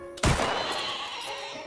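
A horse neighs after being hit, a single loud, close whinny that starts abruptly and trails off over about a second and a half.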